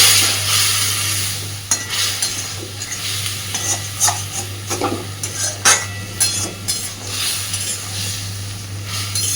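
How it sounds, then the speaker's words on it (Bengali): A spoon stirs a fish curry with coriander powder in a pan, scraping and knocking against the metal in irregular strokes over a soft simmering sizzle, with no talking. "সুন্দরভাবে সবকিছুকে মিশিয়ে দিলাম"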